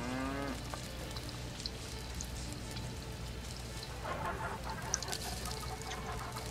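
Cattle in the medieval survival game Life is Feudal give a low moo at the very start, then the scene settles into steady ambient noise like rain, with a few faint clicks and another soft call later on.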